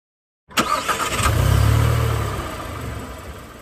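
A car engine catches after a brief cranking burst, then settles into a loud, close, steady rumble that slowly fades, with no voices.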